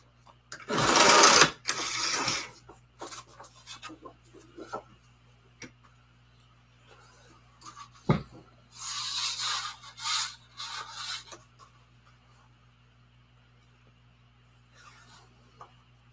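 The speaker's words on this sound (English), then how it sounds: "I'm going to trim off that trim strip" A paper trimmer slides across a sheet to cut off a trim strip. Two loud, close swishing passes come first, then faint ticks and handling noises, a sharp knock, and a few more rough sliding strokes. No one speaks.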